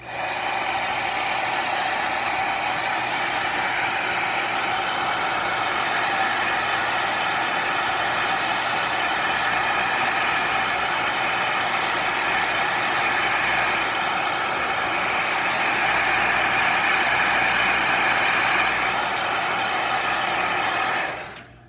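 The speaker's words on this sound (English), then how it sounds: "I'm going to take my hair dryer and I'm going to just buzz it real quick with a little couple of seconds of heat" A hair dryer blows steady heat over a freshly painted layer on thin paper, a loud continuous whooshing roar that holds unbroken for about twenty seconds before cutting off abruptly.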